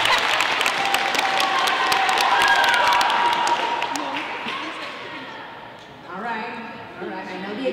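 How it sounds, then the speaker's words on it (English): A middle school audience applauds, a full, sustained round of clapping with cheering voices that gradually fades, then gives way to talk near the end. "Give a round of applause, please."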